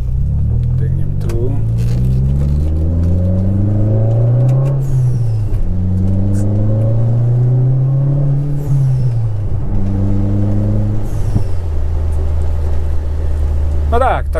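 A Fiat Coupe 2.0 16v Turbo engine revs up close and loud, rising and falling through several repeated sweeps over a constant idling rumble.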